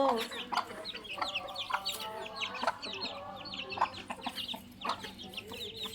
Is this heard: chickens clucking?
yes